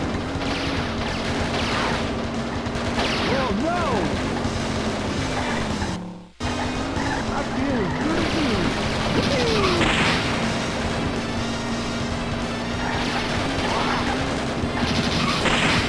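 Light-gun gunfire from the Namco arcade shooter Lucky & Wild (1993) bursts in dense rapid volleys over loud game music and crashing effects, with a brief dropout near the middle, close and continuous throughout.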